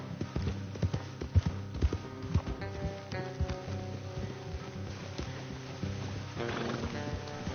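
Horses trot with clip-clopping hooves and snort amid a Red Dead Redemption 2 game soundscape, with occasional neighs and soft background music.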